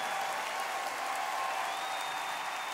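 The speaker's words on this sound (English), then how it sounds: "We'd like for you to give the band a real nice round of applause" A concert crowd at a show applauds the band in a dense, sustained roar of clapping, even in level throughout, with a faint tonal hum threading underneath.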